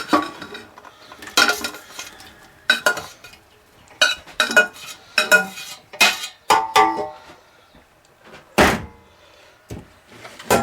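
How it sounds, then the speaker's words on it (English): Potatoes tipped into a pan while making German potato salad, heard as a string of sharp clattering knocks and scrapes at close range, irregular bursts over about ten seconds with no talking. "We're going to take our potatoes and dump our potatoes into the pan."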